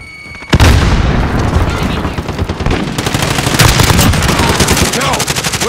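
A grenade blast in Call of Duty Modern Warfare team deathmatch booms suddenly and loudly, followed at once by continuous rapid gunfire bursts that stay close and intense to the end.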